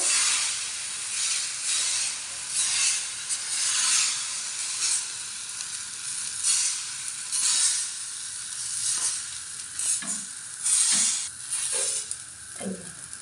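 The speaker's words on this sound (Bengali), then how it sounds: "প্রথম পিঠাটা আমি দিয়ে দিয়েছি, তারপরে উপরটা একটু হালকা সেদ্ধ হোক" Thin pitha batter for Saraswati Puja chakli pitha sizzles steadily on a hot pan, a close, bright frying hiss with a few soft knocks near the end.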